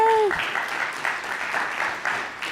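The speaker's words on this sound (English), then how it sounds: "let's give Allie a round of applause" Audience applause for speaker Allie at a parenting talk on discipline, a brief burst of clapping from a seated crowd, opening with a short voiced cheer and fading over a couple of seconds.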